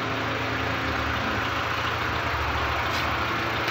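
A 2013 Mitsubishi L200 pickup engine runs at a steady idle after a crank angle sensor repair, giving a constant low rumble close by with no one talking.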